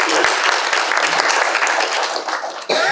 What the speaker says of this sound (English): takes a round of applause